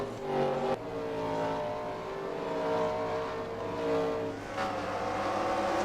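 Race cars in the NASCAR Racing 2003 video game rolling down pit road during a Cup Series race at the Toyota Owners 400, a steady layered engine drone with harmonic whine, loud and continuous, with a brief dip and a second car's engine joining near the end.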